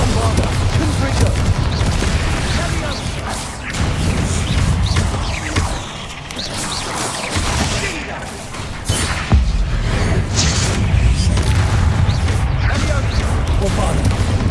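Spell explosions cast in Hogwarts Legacy, with fire, blasting and exploding curses going off one after another in a dense, loud, continuous barrage of booms and crashes over game music.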